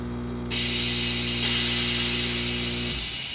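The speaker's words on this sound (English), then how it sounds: "turn the compressor off" An air compressor runs steadily with a droning motor hum and a constant hiss of air, then its motor winds down and stops just before the end.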